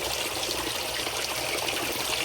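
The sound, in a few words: water flowing into tank from DIY water filter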